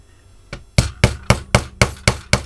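Hammer striking panel pins, seven sharp evenly spaced blows after a faint tap, loud and close with no talking.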